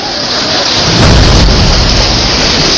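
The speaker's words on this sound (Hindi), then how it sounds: "मूसलाधार बारिश हुई और बादल फटा" Torrential rain pours down in Mumbai with a rolling rumble of thunder that swells in the middle, the dense hiss of rainfall loud and steady throughout.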